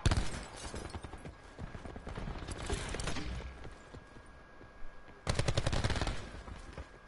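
Bursts of automatic gunfire ring out in Call of Duty: Black Ops 4, with rapid crackling volleys at the start, around three seconds and a loud sustained burst near the end, set against a rumbling battle background.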